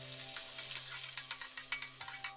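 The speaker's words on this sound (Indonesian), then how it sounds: "kita akan tumis dulu ya serai, daun jeruk, daun pandan beserta daun kunyitnya" Lemongrass, lime leaves, pandan and turmeric leaves sautéing in oil over medium heat for Manado-style chicken, a steady close sizzle with light stirring crackles and small pops.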